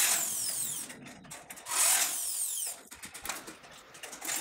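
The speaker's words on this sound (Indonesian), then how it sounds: "Kalau sudah benar-benar lurus, baru kita kencangkan baut dinabolnya." A power tool tightens dynabolt anchor bolts on a steel canopy post, whirring loudly in several bursts with short pauses and ratcheting clicks between them.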